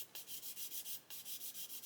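Rhythmic back-and-forth sanding of a grey plastic part from an Airfix 1/48 Sea King model kit, about a dozen quick, close, soft rasping strokes with a brief pause in between.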